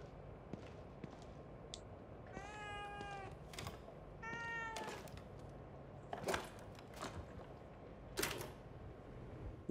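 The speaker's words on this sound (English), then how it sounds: "A cat? I don't ever remember owning a cat." Two clear cat meows in The Evil Within 2, drawn out and fairly close, among faint clicks and thumps in a quiet room.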